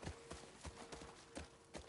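A horse walks at an even pace in The Last of Us Part II, its hooves giving soft, regular clip-clop beats that are faint and muffled over quiet ambience.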